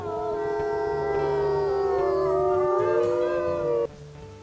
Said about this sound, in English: Let's do a nice howl.